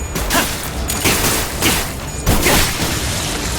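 Gunfire in the video game Limbus Company cracks out in several sharp, loud blasts at irregular intervals, each a broad burst over a dense layer of game noise with no talk.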